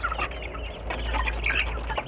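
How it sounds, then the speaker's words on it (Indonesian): A flock of 3–4 month old Kampung chickens (Bangkok, KUB and Joper breeds) clucks busily while eagerly eating and jostling over feed, a dense, steady chatter of close, overlapping calls over a low hum. "Ayam kita semangat sekali makannya seperti ini ya."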